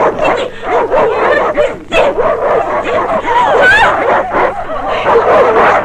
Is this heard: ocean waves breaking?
no